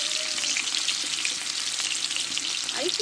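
Two large cut potatoes sauté in white oil with turmeric and salt, producing a loud, steady, unbroken sizzle close up, with a faint clink near the end.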